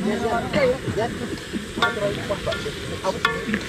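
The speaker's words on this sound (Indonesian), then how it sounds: "Kita menggoreng pangsit." Wonton dumplings fry in a pan at a mountain camp on Mount Arjuno, a steady close sizzle with stirring and crackle while people talk over it.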